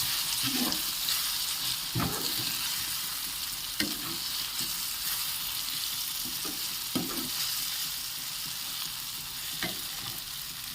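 Broad bean masala gravy sizzles steadily in a pan as turmeric is stirred in, with a spoon scraping and tapping the pan at regular intervals.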